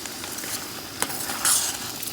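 Soaked rice is stirred in a cooking pot at a night campsite, with a steady sizzle, soft scraping and a couple of light clinks of the spoon against the metal.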